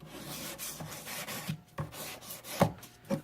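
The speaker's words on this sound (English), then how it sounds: "you can sand back and forth" A textured metal anticlastic cuff is sanded back and forth by hand, giving repeated rasping rubs in an uneven rhythm with a few sharper scrapes, close and quiet, with no talking.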